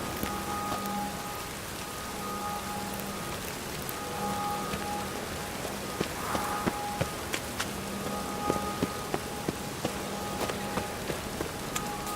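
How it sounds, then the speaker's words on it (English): Rain falls steadily in The Witcher 3: Wild Hunt, a dense, continuous patter of drops on surfaces with a faint tonal hum from the game underneath, no voices present. "Rains it pours."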